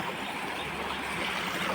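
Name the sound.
stream water flowing like a mini waterfall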